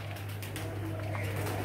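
Teddy pigeons coo close by in a low, steady, humming murmur that runs throughout, with faint background noise around it.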